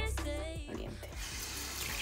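Water running from a tap into a sink as cooked peas are drained, a steady close splashing rush with a few clatters mixed in, fairly quiet overall.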